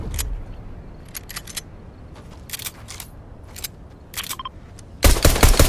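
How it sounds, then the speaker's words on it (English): Fortnite gunfire, sharp clustered bursts of shots cracking in short volleys with gaps between them, ending in a louder, denser barrage, with no one speaking. "Shotgun."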